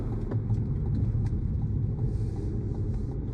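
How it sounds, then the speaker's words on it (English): A 2020 Cadillac CT5 rolls along the road, heard from inside as a steady low engine and tire rumble, moderately quiet and without speech. "Let's take a ride in this car. Let's go drive this thing and see how it actually feels on the road."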